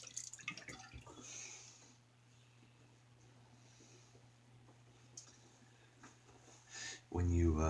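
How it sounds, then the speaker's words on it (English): Water runs and drips while lather is rinsed off a shaving soap tub, a soft steady trickle with occasional splashes, close by, followed by a loud burst of noise at the end. "When you lather in the tub like that, it tends to get soap all around it, so I'm rinsing that off."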